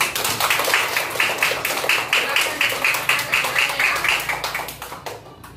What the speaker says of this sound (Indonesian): Berikan tepuk tangan kita semua